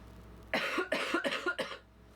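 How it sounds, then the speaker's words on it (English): Several quick coughs in a cluster, close and fairly loud, followed by quiet background hiss. "the coughing's already begun."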